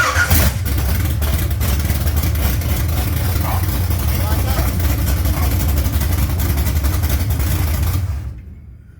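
A 1980 Trans Am V8 fires up and settles into a loud, rough, throbbing idle close by, running steadily for about eight seconds before cutting off abruptly into silence.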